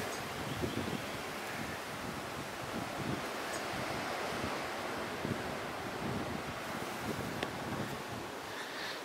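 Surf rolls onto a beach in a national park near Sydney, a continuous broad wash of waves mixed with gusty wind buffeting the microphone, steady and fairly loud with no talking.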